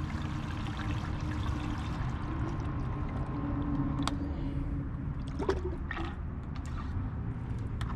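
Water pours and trickles steadily into the top tank of a homemade algae photo-bioreactor. The flow is broadband and continuous for the whole stretch, with a few brief clicks and splashes over it.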